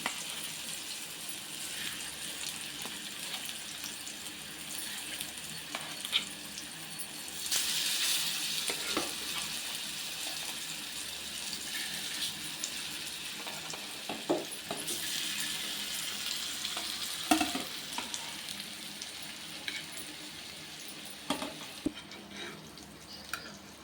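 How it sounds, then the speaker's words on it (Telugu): Yam slices shallow frying in oil on an iron pan, a steady faint sizzle with occasional crackles, pops and clinks of turning. "ఆయిల్ సేమ్ చేప ఫ్రై లాగా చేసుకోవాలి. ఆయిల్ వేసుకొని ఇలా అలా పెట్టుకొని"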